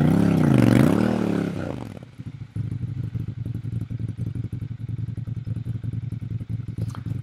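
A Ducati Monster 796 motorcycle is ridden along a city street. A loud, close engine rev rises and falls, then settles into a steady, rapid throbbing pulse of the running engine.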